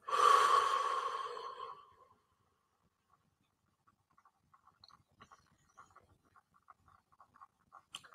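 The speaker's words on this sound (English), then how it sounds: "take a nice deep breath in through your nose" One long, close breath through the nose lasting about two seconds, followed by near silence and faint scattered small sounds.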